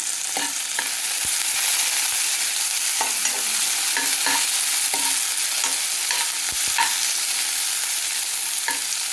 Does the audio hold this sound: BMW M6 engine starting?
no